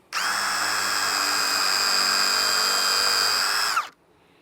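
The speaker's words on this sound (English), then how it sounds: "I'm going to grab my drill and drill my pilot hole into this side now" A power drill bores a pilot hole while building a DIY chicken shade, one steady high-pitched whine for nearly four seconds, loud and close, then cutting off abruptly.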